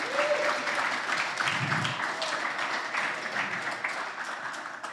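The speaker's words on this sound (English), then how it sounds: "Give her a round of applause." A room of colleagues applauds a co-worker's service anniversary at an all-team meeting, a brief burst of even clapping that stays fairly strong and tapers slightly toward the end.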